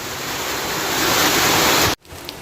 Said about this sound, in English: There is a lot of wind, and we are making losses like those ones.